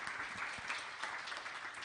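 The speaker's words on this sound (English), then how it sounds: "We can have applause of the presentation." Conference audience clapping after a healthcare presentation, a brief burst of continuous, evenly spread applause from many people at moderate distance.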